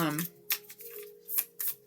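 A Rumi oracle card deck is shuffled in a few short bursts of papery riffling, close and quiet, separated by brief pauses.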